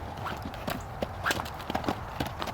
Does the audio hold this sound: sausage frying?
no